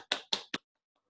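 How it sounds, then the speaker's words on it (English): Three quick hand claps on a Zoom call, close and crisp, evenly spaced and then silence. "I'm going to do a Zoom clap here"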